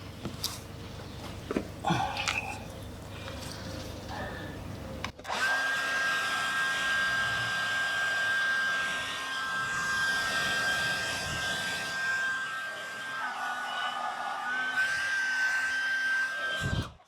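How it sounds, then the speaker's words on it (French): A hair dryer blows steadily and loudly with a constant high whine, aimed at LED door sill trim being fitted on a Tesla. A brief clatter and voices come first, then the dryer runs alone for over ten seconds before it stops. "Vas-y, le sèche-cheveux il est là à gauche."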